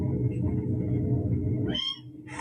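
A cat meows in a short, rising-falling call near the end, preceded by a loud low rumbling drone and followed by a brief hiss-like burst.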